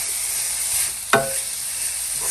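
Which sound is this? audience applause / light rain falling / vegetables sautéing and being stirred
vegetables sautéing and being stirred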